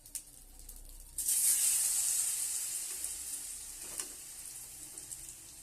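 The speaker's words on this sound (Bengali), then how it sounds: "এগুলো পরে একটু লাল লাল করেও ভাজতে হবে" Eggplant fritters in batter (beguni) hit hot oil with a sudden loud sizzle that swells and then slowly settles into a steady close frying hiss, no talking.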